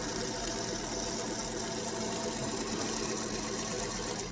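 A sewing machine backstitching the seams of a lavender off-the-shoulder dress runs with a steady, even mechanical whir and rattle, close and continuous with no talk.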